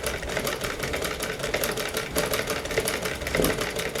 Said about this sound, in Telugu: చిన్నది చేశాను చూడండి, మీకు కుడుతున్నాను.